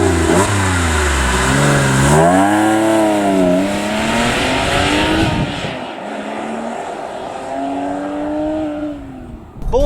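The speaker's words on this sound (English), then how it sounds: "And let's take a look at what the 997 sounds like." A Porsche 997-generation 911 fitted with a sports exhaust revs hard, its engine note sweeping up and down through rising and falling harmonics, then settling to a steadier burbling drone; loud and close, with no talking.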